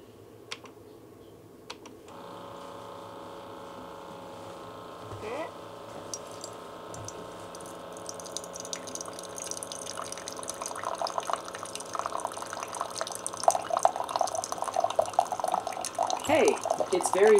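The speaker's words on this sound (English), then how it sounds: "before you make your first cup, they want you to flush out the system" Keurig K-Elite coffee maker running a 12-ounce flush cycle: a steady pump hum with water gurgling and dripping through, growing louder and busier toward the end.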